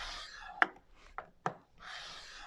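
A scoring tool presses score lines into paper for a mini album, giving a few short, soft scraping strokes close by.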